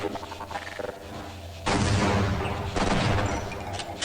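Combat in the Half-Life: Blue Shift video game, with a grenade blast and double-barrel shotgun fire: a loud burst of explosive booms and crackling gunfire over a background of game ambience, close and dense.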